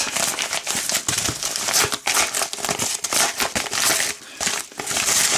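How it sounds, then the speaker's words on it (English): A paper envelope being torn open by hand while packing from a toy parts mailing is unwrapped, giving several bursts of crisp ripping and crinkling paper noise, close and fairly loud, with no talking. "I'll just quickly tear this open if I can"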